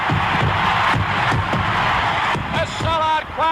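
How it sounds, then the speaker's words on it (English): Sellout baseball stadium crowd roaring and cheering for Hank Aaron's record 715th home run, a dense, continuous wall of voices with whoops, as fireworks pop and whistle near the end. "A sellout crowd is cheering Henry Aaron, the home run king of all time"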